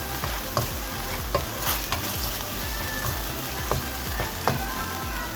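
Black pepper frying over high heat in a pan for a chicken club sandwich, giving a steady broadband sizzle with a few soft clicks of a utensil against the pan.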